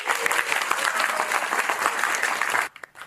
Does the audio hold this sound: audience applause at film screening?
yes